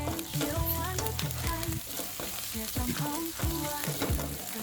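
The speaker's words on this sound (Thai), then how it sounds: "ผัดเข้าให้กลิ่นหอมฟุ้งเลยนะครับ" Steady sizzling as garlic and chili fry in oil in a wok, a continuous crackling hiss with clattering stirring, close and fairly loud throughout.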